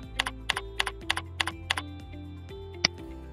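Typing on a computer keyboard, a quick series of crisp, close key clicks in an even rhythm with a single louder keystroke near the end, no talk.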